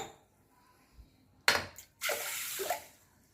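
Water is poured in two short bursts into a pressure cooker holding soaked urad dal, a splashing gush followed by a longer steady pour, close and fairly quiet in a home kitchen.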